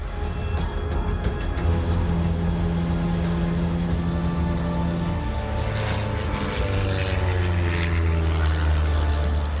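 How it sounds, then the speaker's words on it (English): A steady droning propeller plane engine hums continuously, its pitch shifting slightly midway, loud and close with no voices. "You can definitely hear a plane propeller."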